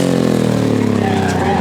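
Twin-cylinder engine mounted out front of a Morgan three-wheeler racing at a hillclimb, with a steady, loud engine note that drones under the driver's effort and pitches up slightly near the end.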